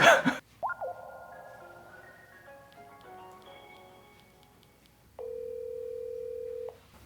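A telephone sounds in a quiet room: a brief burst of noise, then a sequence of soft electronic tones, followed by a steady ringing tone lasting over a second.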